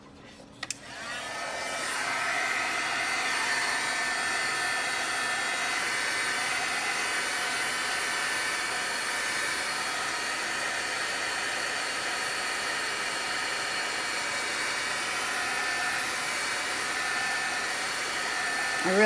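A hair dryer blows steadily on wet paint on a handmade snowflake holiday card, a continuous close, loud whooshing hiss that starts after a brief click and holds almost unchanged for the rest of the clip, with no one talking.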